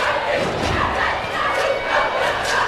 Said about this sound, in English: A little commotion here as the crowd is getting a little anxious